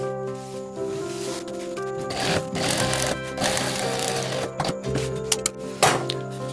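A sewing machine stitches a trekking bag at home, with steady mechanical whirring bursts that stop and start across the clip and close, loud runs of needle clatter broken by brief pauses and small handling knocks.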